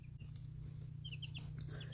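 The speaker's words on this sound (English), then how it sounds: "all three of these guys are chickens, all different breeds" Three chickens of different breeds, including a silkie and an ayam cemeni, cluck softly in short, scattered calls as they drink water, over a loud, steady low hum.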